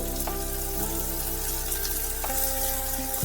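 Finely chopped onion and garlic frying in oil for a chicken kachori filling, a continuous loud sizzle with scattered crackles and pops, no voices.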